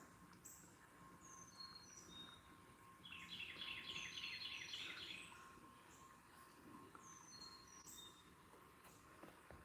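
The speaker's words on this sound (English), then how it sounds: "Carolina chickadee." Small birds call outdoors beside a river, thin high chirps and a brief rapid trilling phrase over a low steady rumble, faint and distant, no talk.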